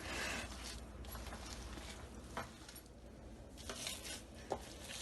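Kabab mixture being mixed with two eggs in a bowl for reshay wale shami kabab, giving soft, continuous stirring and scraping with occasional light clinks against the bowl.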